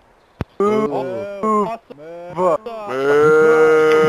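A cow in a video game moos loudly and up close in several drawn-out, wavering calls, broken by short gaps and ending in one long sustained moo, preceded by a brief sharp click.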